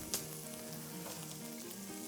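Onion and garlic sauté together in a pan over medium-high heat, with a continuous close crackling sizzle and a brief sharper spatter near the start.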